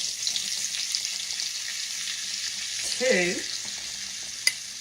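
Flour spooned into hot grease in a skillet for gravy, a steady close sizzle and frying hiss, with a short voice counting over it and a small clink near the end.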